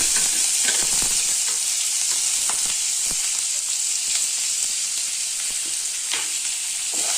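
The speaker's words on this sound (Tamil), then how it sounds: "சின்ன வெங்காயம் போட்டுக்கலாம்." Small shallots sizzle and crackle in hot groundnut oil with mustard seeds and curry leaves, a steady loud hiss broken by scattered pops and occasional stirring clicks, with no voices.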